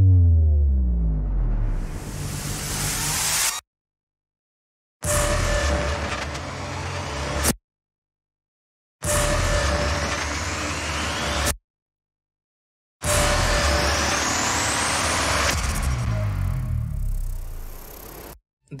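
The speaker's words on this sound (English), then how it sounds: "It's a combination of one effect sound and one riser." Whooshing cinematic noise bursts, an effect sound combined with a riser, sweep upward in bursts separated by short silences, ending with a long rising swell that fades out.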